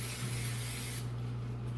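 A short, close hiss of cooking oil spray coating the tops of pizza dough in a bowl, steady for about a second and then cutting off to a quieter room tone.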